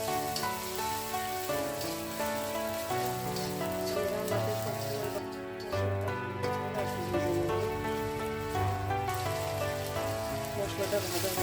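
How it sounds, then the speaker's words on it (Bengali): Spices with garlic paste and ginger paste fry in oil for a country chicken curry, a steady crackling sizzle running throughout beneath louder background music. "মশলা তেলের সাথে ভেজে নেব"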